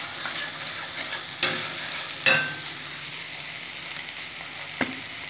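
Spiced masala for egg curry, with turmeric, salt and Kashmiri chili, sautéing in a pan: a soft steady sizzle with a few sharp clinks of a utensil against the pan, close and fairly quiet.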